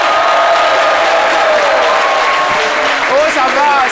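Studio audience applause on a French television variety show, a steady dense roar of clapping throughout with some voices and whoops rising near the end.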